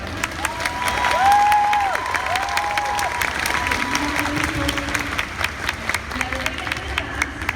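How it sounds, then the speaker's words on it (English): An audience at a Dallas gaming icons panel claps and cheers, swelling loudly early on and then thinning into scattered claps, with a few faint vocal sounds mixed in. "let's have a round of applause for this first part"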